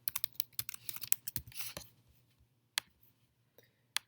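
Typing on a computer keyboard: a quick burst of sharp key clicks for about two seconds, then a few isolated taps after a pause, close and quiet.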